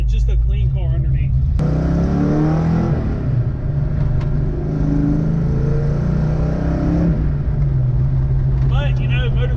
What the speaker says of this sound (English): the exhaust setup on it, a lot of people ask me about this just because it has such a unique sound